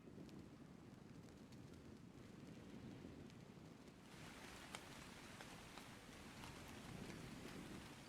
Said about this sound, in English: It's morning and it's raining again.